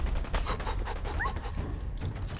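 A dog companion whimpers briefly in Fallout 4, a short high whine heard amid a loud, busy game soundscape of rumbling noise and scattered gunfire.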